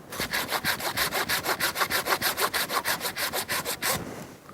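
A hand saw cuts a large olive tree branch in even, rapid strokes, about twenty rhythmic rasping passes of the blade through wood, close and loud, ending abruptly as the sawing stops.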